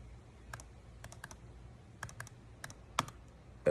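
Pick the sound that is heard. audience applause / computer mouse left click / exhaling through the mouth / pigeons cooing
computer mouse left click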